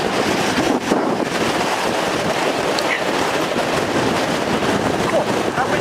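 Strong wind buffets the microphone outdoors at a three-man Cold War ROC bunker, a loud steady roar filling the whole stretch with no break.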